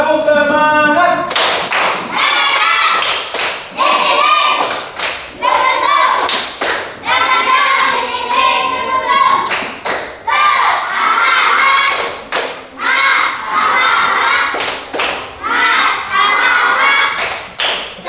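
Schoolchildren in a classroom clap together in a rhythmic spirit-clap pattern, sharp loud bursts of claps in repeated phrases with short pauses, children's voices chanting and shouting along between the beats.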